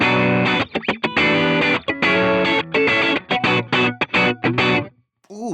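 Electric guitar clean tone through a Wampler Reflection reverb pedal, playing choppy chords and short phrases with a slightly gritty, reverberant tone, notes ringing and cutting off, ending in a brief pause.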